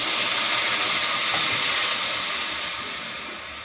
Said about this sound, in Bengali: ওটা দেওয়ার পর আমি জল দিয়ে দিলাম।